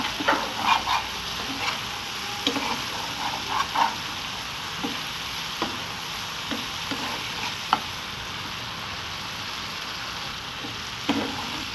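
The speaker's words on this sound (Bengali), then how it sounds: "এবার আমি মশলাটাকে ভালো করে কষিয়ে নেব" A spice masala fries with a low steady sizzle in a pan as it is stirred, with intermittent scraping and clinking of the utensil and one sharp knock partway through; close, fairly quiet, no voices.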